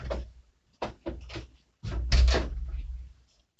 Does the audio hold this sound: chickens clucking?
no